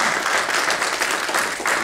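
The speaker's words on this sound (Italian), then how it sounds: "vorrei fare un piccolo applauso" An audience at a monument dedication speech gives steady, dense applause for two honored men. The clapping comes from many hands at once, sounding broad and even throughout.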